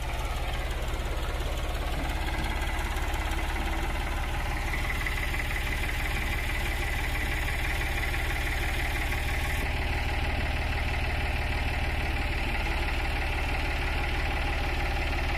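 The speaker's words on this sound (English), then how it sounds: "So we're gonna pull the tractor up on it" A tractor engine idles steadily with a low, continuous rumble and faint knocking, close by and unchanging, with no voices.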